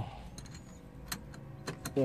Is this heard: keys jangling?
yes